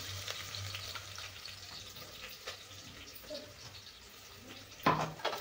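Ground ginger, garlic and coriander paste frying in a pan for sambar gives a soft, fairly faint sizzle with light stirring and a few brief clinks near the end, and no talking.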